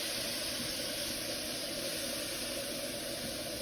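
Jumbo shrimp sizzling in a hot, lightly oiled pan, a steady, dense hiss of frying that holds unbroken throughout, fairly close with no talk over it.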